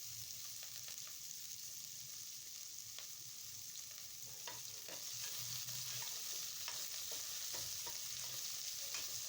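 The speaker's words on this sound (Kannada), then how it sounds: "ಈರುಳ್ಳಿನ ಹಾಕೊಂಬಿಟ್ಟು ಬಾಡಿಸ್ಕೊಳ್ಳಿ ಫ್ರೆಂಡ್ಸ್" Onions frying in a pan for mutton sambar, a steady soft sizzle with scraping stirs and light clicks of the spoon at irregular intervals, fairly quiet throughout.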